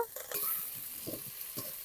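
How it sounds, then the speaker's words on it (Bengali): Chopped medium tomato frying with browned onions in a pan for a village-style egg chop curry, soft sizzling under a few scraping stirs of a spatula, close and moderately quiet. "এবার আমি দিয়ে দিচ্ছি একটা মাঝারি সাইজের টমেটো কুচি এটাকে একটু বেজে নেব"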